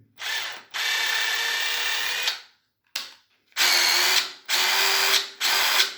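A cordless DeWalt DCF887 impact driver's motor whirs in several bursts of varying length, separated by short pauses, loud and close.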